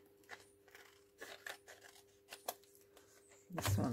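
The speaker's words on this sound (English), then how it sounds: "And then I'll just snip that" Scissors snipping paper for a Wizard of Oz journal with envelopes, a handful of short crisp cuts spaced irregularly, close and quiet, with a louder crinkle of paper handling at the end.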